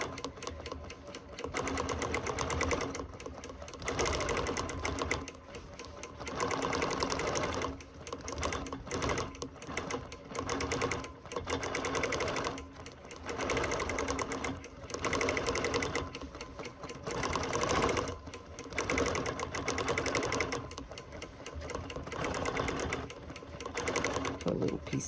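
A sewing machine couching decorative yarn onto a quilt in snowflake shapes, running slowly in bursts of rapid stitching separated by short pauses, close and steady at moderate level.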